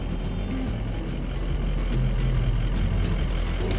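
A Ford F-250 Super Duty pickup idles with a steady low diesel rumble while being shifted into low range through neutral, with faint clicks and knocks over the continuous engine drone.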